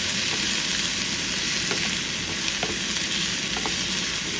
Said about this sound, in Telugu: సో ఇప్పుడు బ్రాకలీని చక్కగా మగ్గనిద్దామన్నమాట.